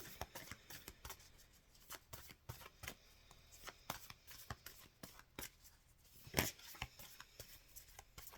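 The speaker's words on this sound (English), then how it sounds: "let's get some more cards from the Work Your Light deck" Oracle cards from the Work Your Light deck shuffled and drawn by hand, a string of soft, close card flicks and slaps with a sharper riffle near the end, with no talking.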